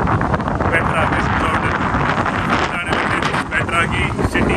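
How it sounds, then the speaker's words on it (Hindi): Strong wind blowing at the ancient city of Petra, a loud, constant roar buffeting the microphone throughout, with no pauses. "भयंकर हवा चल रही है"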